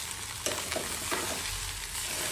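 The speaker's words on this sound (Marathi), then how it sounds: "राईसला पण चांगलं आपण आता परतून घेऊया।" Pre-boiled rice being stir-fried in a pan for Indian egg fried rice, a broad hiss of frying broken by several quick spatula strokes tossing the grains, close and steady, with no talking.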